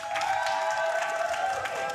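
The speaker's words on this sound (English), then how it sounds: "a very convivial cheering section for OG" Crowd of fans cheering for OG at a BLAST Premier esports match, a sustained, fairly loud wash of cheers and applause with some clapping, running throughout.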